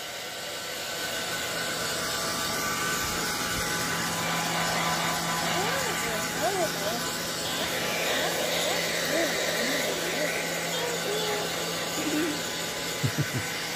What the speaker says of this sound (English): now I got to get back to drying the baby's hair